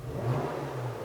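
A Porsche Macan GTS compact SUV's exhaust rumbles in a short low revving burst, a deep steady growl heard close and fairly faint, with no talk over it.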